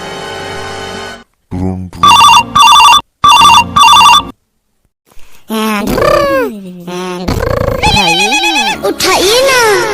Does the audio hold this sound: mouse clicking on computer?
no